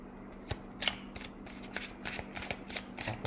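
Tarot cards riffled and snapped in a run of short papery bursts, close and crisp, with a steady low hum underneath.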